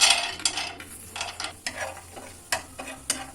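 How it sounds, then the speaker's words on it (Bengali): Peanuts fry in a pan with a soft sizzle as they are stirred and scraped, the utensil knocking against the metal in irregular, close clinks and rattles without any talking. "আমি বাদামগুলো ভেজে নিচ্ছি"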